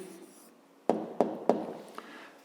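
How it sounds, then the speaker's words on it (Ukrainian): A pen writes an answer by hand on paper for a fifth-grade geometry exercise, giving three sharp taps close together followed by a fainter one, with soft scratching in between. "Отже, пишемо відповідь."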